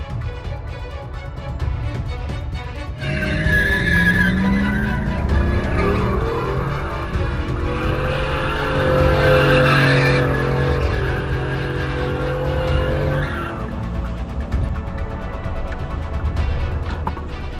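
Dashcam audio of a car skidding with tires squealing over a loud engine and road roar, rising in the middle before easing off; no distinct crash impact stands out.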